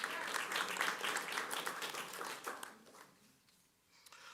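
Applause from a school board meeting audience, a fairly brief burst of steady clapping that thins out and fades within a few seconds, heard from some distance in the room.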